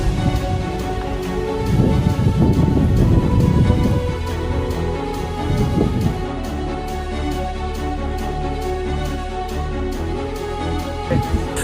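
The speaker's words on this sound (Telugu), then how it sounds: "ఇక్కడైతే ఫుల్గా వర్షం పడుతుంది" Heavy rain pours outdoors on a hill at Devarakonda in a dense, constant roar of drops hitting surfaces, with stronger gusty bursts early on and a steady wash continuing throughout.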